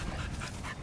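A hunting dog pants during a rest break from quail hunting, quick rhythmic breaths close by for under a second, with no talk.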